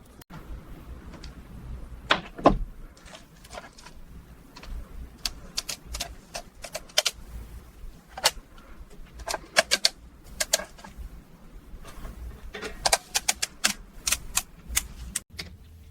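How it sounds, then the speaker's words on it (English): Ratchet clicks and sharp metallic ticks ring out in irregular bursts as body bolts are tightened on a 1974 Lamborghini Countach during restoration, close and crisp over a quiet background. "First bolt goes in by hand, ratchet it down. Now torque and click, solid."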